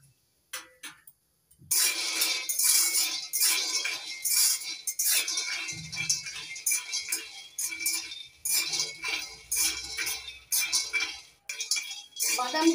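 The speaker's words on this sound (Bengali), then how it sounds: "এই চিনে বাদামগুলো খালি খোলায় ভেজে নেব" Raw peanuts dry-roast in a hot empty kadai on a gas stove, rattling and clicking in quick uneven bursts as they are stirred, close and fairly loud, with a brief low thump midway.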